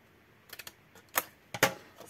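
Paper being cut with a slight bevel for an advent calendar craft, heard as short crisp snips and scrapes in uneven bursts, close and moderately loud, with no talking.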